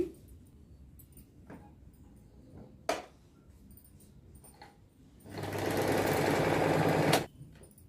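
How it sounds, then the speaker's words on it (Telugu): Sewing machine stitching blouse fabric: a few scattered clicks and taps, then a loud, steady mechanical whir running for about two seconds before stopping. "ఈ మెయిన్ క్లాత్ మీద ఒక పాయింట్ దూరంలో కుట్టు వేసేయండి"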